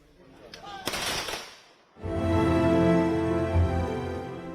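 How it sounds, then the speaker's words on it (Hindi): Ceremonial gun salute at a state funeral in India: a few sharp, loud reports early on, then a sustained, dense burst of firing that fills the rest, with voices nearby. "पहले 60 गोलियों की सलामी हुई"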